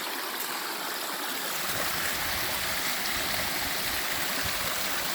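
A river rushes and gurgles below a dam along a hiking trail, a loud, steady broadband roar of flowing water heard up close, continuous with no speech over it.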